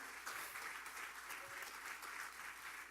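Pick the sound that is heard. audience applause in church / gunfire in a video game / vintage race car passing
audience applause in church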